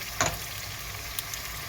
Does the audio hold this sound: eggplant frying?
yes